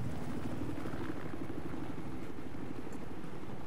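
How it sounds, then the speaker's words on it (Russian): Helicopter rotor and engine drone in the video game Battlefield 4, a steady continuous thrum filling the whole stretch, fairly loud with no voices over it. "там вертолет"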